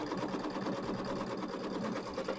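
A Brother Baby Lock sewing machine stitches a tack-down line on quilt fabric, a fast even mechanical whir and chatter running steadily and close with no pauses.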